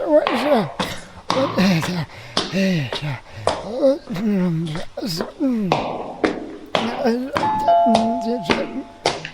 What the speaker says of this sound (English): will you stop ringing that doorbell?